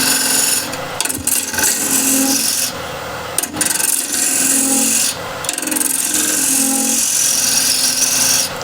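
Negative rake scraper cutting wood on a lathe spinning at 1300 RPM, a loud, steady close-up scraping rasp that runs continuously with slight surges and dips as the tool moves across the workpiece.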